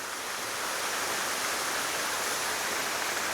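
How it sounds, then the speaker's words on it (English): Water from a small outlet on the Natchez Trace Parkway pours steadily into a deep stream, a continuous broadband rush that stays close and even throughout. "You can see the water coming out of there."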